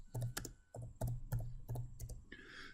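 Keystrokes on a computer keyboard entering a supplier lot number into food-traceability labeling software, a run of distinct clicks in short bursts, close and fairly quiet with no talk.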